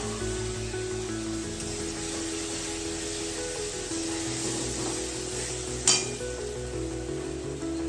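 Lentil paste frying in hot oil on a gas stove, a steady close sizzle running throughout with a brief sharp clink near the end.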